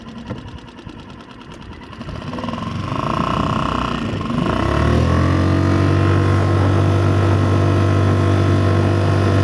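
Mercury 3.5 hp outboard motor on a small boat throttling up from a rough, uneven idle into a loud, steady high drone that holds to the end; no speech.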